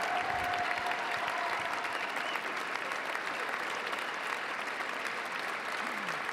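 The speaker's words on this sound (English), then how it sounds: "Donald Trump applauds briefly before slowly stepping to the podium." Sustained applause from a large outdoor crowd at a presidential inauguration, steady and dense throughout without a break, loud and close.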